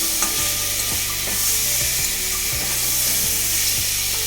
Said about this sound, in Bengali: এখানে আমি মাছের কালিয়াটা বসিয়ে দিয়েছি